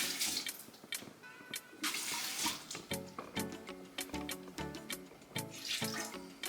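Water runs from a kitchen tap into a bowl being rinsed while cooking curry coconut shrimp, a steady splashing flow with clinks and drips throughout, close and fairly loud.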